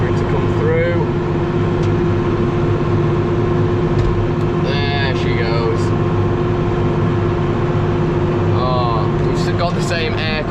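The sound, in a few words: tractor running manure spreader, spreading six-month-old manure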